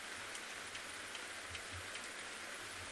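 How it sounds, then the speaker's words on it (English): Steady rain falls as a constant hiss during a sunset safari in Kruger National Park, with faint scattered drops and a low rumble beneath, heard at a distance. "You can actually hear the rain"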